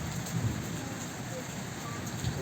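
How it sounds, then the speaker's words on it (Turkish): Steady rain falling over a village in Turkey, a dense continuous hiss with soft patters, moderately loud throughout with no voices. "Bugün köyümüzde yağmur yağıyor."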